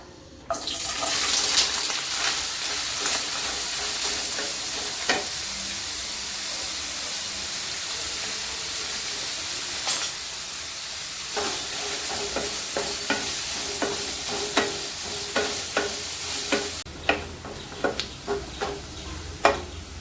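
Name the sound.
ginger frying and being stirred in a pan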